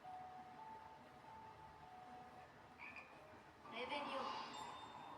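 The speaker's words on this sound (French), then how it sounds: "J'aime bien les crapauds." Toads croak in a video game, with faint calls through the first seconds and a louder, busier burst of croaking near the end.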